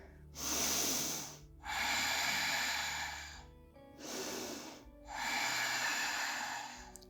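Slow, deep breaths during a full-body yoga session, a long airy inhale and exhale repeated in a steady rhythm, close and clear with no talking over them.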